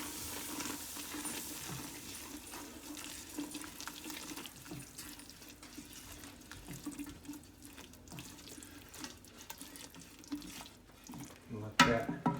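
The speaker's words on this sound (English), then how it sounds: "Now you gotta make sure you keep stirring the flour around in there" Flour stirred around a pot while making broccoli cheddar cheese soup, giving a faint, steady scraping and swishing with a soft sizzle, ending in a few sharper clatters near the close.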